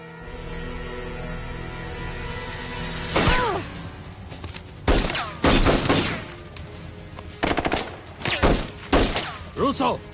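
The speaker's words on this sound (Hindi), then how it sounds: "गोली चलाना बंद करो" Gunfire in an army action film: several short, loud, close volleys of shots crack out in separate bursts over a sustained background score.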